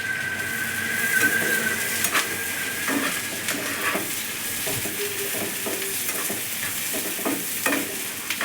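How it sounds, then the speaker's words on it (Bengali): Chopped onion, garlic and green chili fry in mustard oil in a pan for jute leaf bhaji. A steady close sizzle runs throughout, with repeated stirring scrapes and light utensil clinks. "অনেকটা পরিমাণ পেঁয়াজ কুচি, রসুন কুচি সব কিছু দিয়ে এবার সুন্দর করে বাদামি রং মতো ভেজে নেব"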